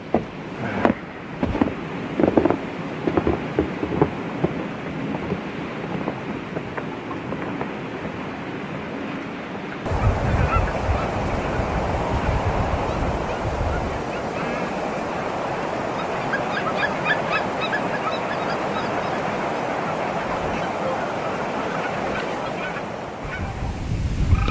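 A large flock of snow geese honks during a spring hunt, a dense continuous chorus of overlapping calls at a distance under wind noise, with a sharper burst of nearer honks at the start.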